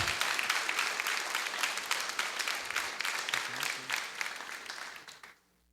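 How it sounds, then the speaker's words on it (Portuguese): A church congregation claps in praise, a burst of lively, dense applause with quick rhythmic claps that gradually thins and stops abruptly near the end. "E que as palmas louvem, exaltem e glorifiquem aquele que é digno."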